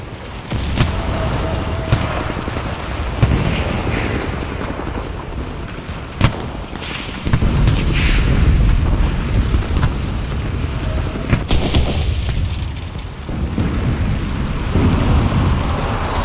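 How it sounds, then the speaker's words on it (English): Artillery fire and explosions in the World War II shooter video game Enlisted: heavy booms and sharp blasts land irregularly over a constant rumbling battlefield roar, some near and loud, others distant and muffled. "Artillery! Fire!"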